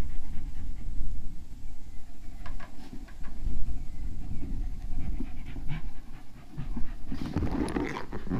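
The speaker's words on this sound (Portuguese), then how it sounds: "Cachorrinha animada, hein?" A small dog pants rapidly and excitedly up close, a continuous breathy rhythm with a few brief whimpers and outdoor noise around it.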